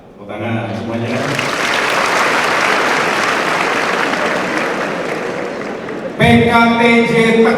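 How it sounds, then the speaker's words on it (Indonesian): Audience applause at a transport college graduation ceremony, loud sustained clapping from a large crowd, with someone speaking briefly before it swells and again as it ends. "Tepuk tangan semuanya."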